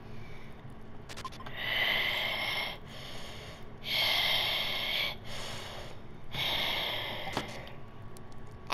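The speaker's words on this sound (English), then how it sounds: "What was that breathing?" Heavy, slow breathing close up in a quiet room, four long raspy breaths with a pause between each, sounding hoarse and a little menacing.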